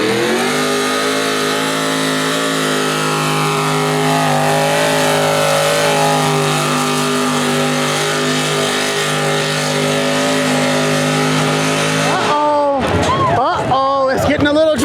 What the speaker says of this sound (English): Here we go. Ford engine.